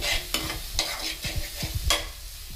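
Gongura leaves stirred while frying in a pan, a steady sizzle broken by repeated scraping strokes of the spoon, close and loud with no voices.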